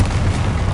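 A Confringo spell explosion in the Hogwarts Legacy video game on PS5, one short, loud, low booming burst that fades quickly.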